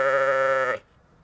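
A sheep gives one long, loud, close bleat lasting most of a second, then breaks off into faint rustling and quiet.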